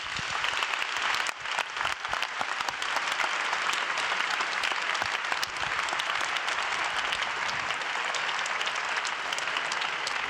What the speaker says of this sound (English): Please give Jeremy Rifkin a big round of applause, ladies and gentlemen.